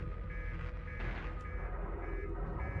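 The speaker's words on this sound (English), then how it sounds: "Uh-oh. Master alarm." Ship master alarm in the video game Outer Wilds, a steady electronic beeping tone that repeats continuously and sits fairly loud over a low rumbling background.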